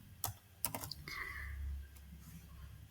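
A few sharp key clicks on a computer keyboard as a print command is typed, close and fairly quiet, with two or three quick taps followed by a brief low hum and no speech.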